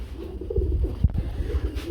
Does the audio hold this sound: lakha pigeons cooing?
yes